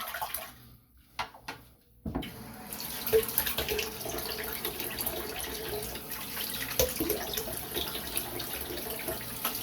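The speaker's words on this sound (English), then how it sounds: "Do a little rinse off here." Tap water runs steadily into a sink for a rinse after a shave, a continuous close splashing hiss that starts after a couple of seconds of quiet drips and trickles.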